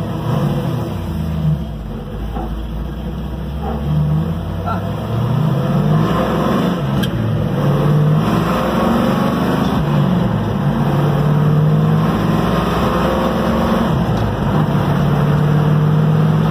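A 1967 Chevrolet Camaro on a test drive: a loud engine drone heard from inside the car, rising and falling in pitch through gear changes and acceleration, steady throughout.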